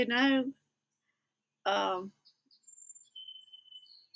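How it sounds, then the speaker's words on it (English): A voice speaks twice, then thin, high bird chirps and whistles drift in quietly from a distance, fairly faint. "you can hear the birds singing as it's getting later in the morning"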